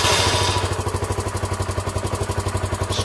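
A Sinnis SC125 (Jianshe JS125) motorcycle engine cranks over without catching, with a steady, rapid rhythmic churning from the starter that continues unbroken for the whole stretch, loud and close.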